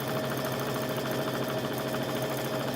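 A push-button sewing machine stitches a baby quilt, a continuous close, even mechanical hum and rapid needle chatter with no pauses throughout.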